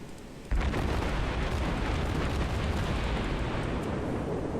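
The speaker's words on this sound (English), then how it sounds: "I'm going to pump some more shots into him as he comes around" Naval guns on a warship in a World of Warships-style game open fire with one sudden loud boom, then a sustained roaring rumble of heavy gunfire fills the rest of the moment.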